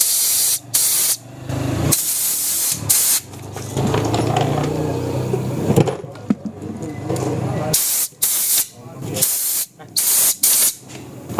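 Compressed air blasts in loud spraying bursts into the fuel line of a TVS Jupiter BS6 scooter with a fuel pump fault, hissing on and off with short pauses and handling clatter.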